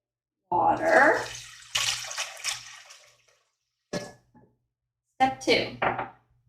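Tap water runs in several separate bursts of splashing and trickling for baking, fairly close, with short silent pauses between the bursts.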